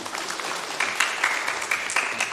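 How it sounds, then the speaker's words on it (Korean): Congregation clapping in a church during a children's Sunday worship service, a steady, moderately distant patter of hands with a few sharper claps standing out, no voices over it. "박수 한번 쳐줄까요?"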